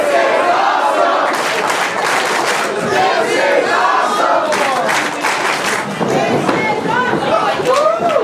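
A live professional wrestling crowd at a main event roars and chants loudly, rhythmic group shouts and cheers surging in waves with some clapping, close and dense throughout.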